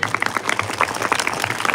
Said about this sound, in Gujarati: હાર્ટબીટ વધી જાય એટલી જોરથી તાળીઓ પાડીશું